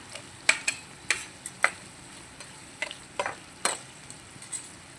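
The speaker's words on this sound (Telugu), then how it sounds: "ఇప్పుడు ఒకసారి చూద్దాం మగ్గుతుంది కదా ఒకసారి తిప్పుదాం" A spoon or spatula stirring brinjal and tomato curry in a pan, sparse scraping clicks and knocks at irregular intervals over a faint low simmer.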